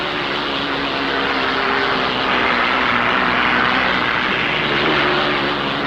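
Hydroplane Miss Supertest racing with its Rolls-Royce Griffin engine at the 1960 Harmsworth Gold Cup, a loud continuous engine roar that holds steady and swells slightly, with no talk.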